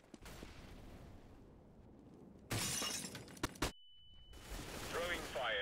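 An incendiary fire grenade thrown in CS:GO bursts with a sudden loud glassy crash partway through, followed by crackling noise and a brief tone over ongoing gameplay sounds.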